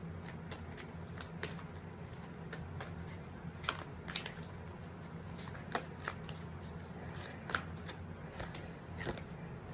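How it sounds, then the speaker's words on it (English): Oracle cards are shuffled by hand in a quiet room, giving soft repeated riffling and slapping sounds with occasional sharper card clicks, close and fairly faint, with no talking. "we're going to pull some advice cards"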